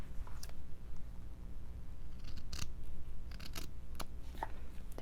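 Scissors snip through paper for a decorated signature cover in a series of close, crisp cuts with short pauses between them.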